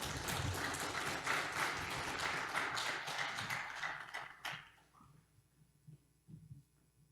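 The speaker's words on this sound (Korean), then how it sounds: "이명서 목사님 나오실 때 박수로 환영하겠습니다" A church congregation applauds during a Sunday worship service to welcome the pastor, steady dense clapping for about four seconds that breaks off and leaves scattered faint taps and room hum.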